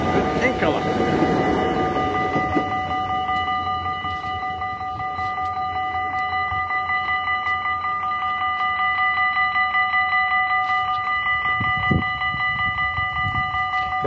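A passing train, the 2733 service to Groningen, rolls by nearby with steady tonal hum and a regular clicking rhythm of wheels over rail joints, loud and continuous throughout.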